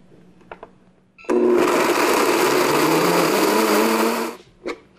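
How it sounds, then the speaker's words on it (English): Soaked cashews with xanthan gum are pureed in a blender, which starts after a couple of faint clicks and whirs loudly and steadily for about three seconds before switching off. "we're going to just puree this for a minute until it's really,"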